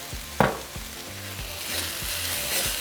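Potatoes fry in oil alongside beef for steak tacos, a steady close sizzle broken by rhythmic scraping and stirring knocks in the pan.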